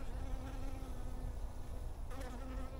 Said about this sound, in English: Look at the bee on it right there.